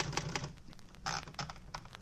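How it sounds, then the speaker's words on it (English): Rapid clacking keystrokes of a typewriter used as a radio drama sound effect, an irregular burst of sharp mechanical taps heard alone at moderate level. "There was a typewriter, and I tried it."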